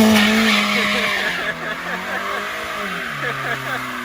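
Honda Civic EK doing a burnout, with loud sustained tire squeal and revving engine close by, the screech wavering and fading slightly over a few seconds.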